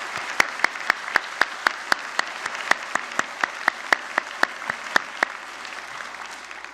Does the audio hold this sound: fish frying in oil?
no